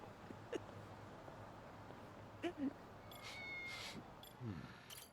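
A cat meows a few times in the Lost Judgment video game, short soft calls spread over several seconds with faint game background and a brief tone, no talking over it.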